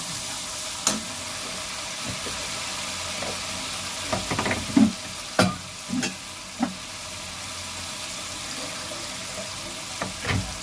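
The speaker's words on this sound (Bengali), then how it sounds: "মশলাটাকে ভালো করে ভেজে নেব, কাঁচা গন্ধটা চলে যাবে।" Spice paste for a katla fish curry fries in a pan with a constant close sizzle, broken by several sharp scraping and stirring knocks in the middle.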